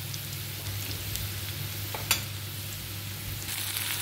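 Garlic and a little asafoetida fry in hot oil for a chana dal pithla, with a steady close sizzle and stirring, plus one sharp clink of the spatula partway through.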